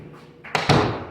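A laundry room door in a colonial house opens with a quick thump, and the running clothes dryer behind it swells into a loud, steady rumble.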